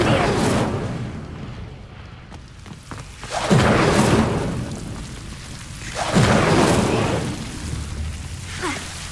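Incendio fire spell cast in Hogwarts Legacy, a pair of loud whooshing fiery bursts at regular intervals, each swelling and fading over a rumbling low background, with a short sharper flare at the end.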